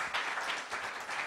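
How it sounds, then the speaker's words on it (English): Brief burst of audience applause for a conference panel, dense even clapping at moderate distance, lasting only a moment with no talk over it. "give our panelists a round of applause"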